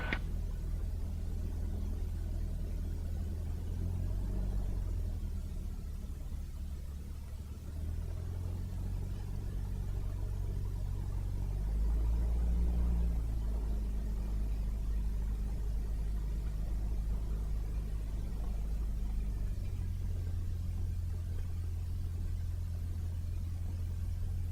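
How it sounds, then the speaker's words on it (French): A light aircraft engine drones steadily through a takeoff for circuit practice, loud and continuous with a deep rumble. The power swells briefly midway and then settles back to a constant roar. "On s'aligne et on décolle pour des tours de piste."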